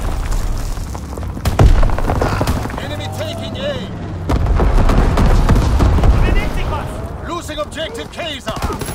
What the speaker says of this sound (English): Enemy bomber! Incendiary bombs incoming!